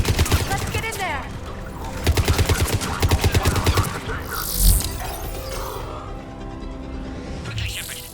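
Video game gunfire from a Mass Effect 3 Legendary Edition battle against Cerberus troops at a checkpoint: loud bursts of rapid automatic fire come in sharp rhythmic volleys, with a heavy impact partway through and a lighter, sparser clatter afterward.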